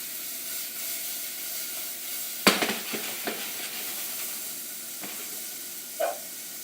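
Mushrooms sautéing in butter in a hot pan, a soft steady sizzle with a few sharp clinks of a utensil against the pan and a short stir near the end, all close and without speech.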